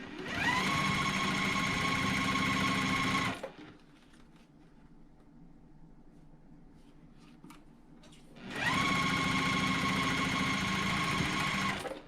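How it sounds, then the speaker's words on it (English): A sewing machine stitching quilt blocks into a four patch runs loud and steady with a fast even whir, pauses for several seconds of quiet handling, then starts up again at the same close, constant pace. "we'll just sew those together into a 4 patch."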